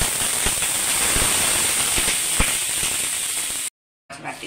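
Dosa batter made with green gram sizzling on a hot griddle, a dense, steady crackling hiss with small pops, close and loud, cutting out briefly near the end before resuming.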